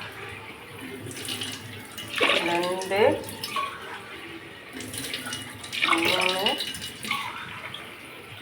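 Water pours in two separate bursts, splashing into a cooking vessel nearby for making ven pongal, while a voice speaks briefly between the pours.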